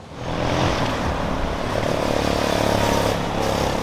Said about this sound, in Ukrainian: Дуже часто ми чуємо цей гуркіт від мотоциклів